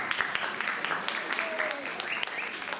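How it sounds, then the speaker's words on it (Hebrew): High school yeshiva students at an end-of-year show applaud themselves, a fairly faint, continuous smattering of claps with voices mixed in. "שמוחאים לעצמם כפיים עכשיו."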